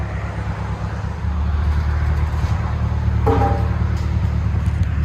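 A 1993 Mitsubishi Mighty Max fitted with a Flowmaster Flow FX muffler idles with a steady, deep, loud exhaust drone, close by and without voices.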